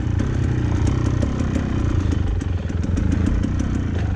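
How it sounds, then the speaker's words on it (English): A dirt bike engine idles steadily and loudly close by on a hill-climb trail at Hobble Creek, a continuous throbbing putter with a faint mechanical clatter and no talking. "I can almost just not have the bike running."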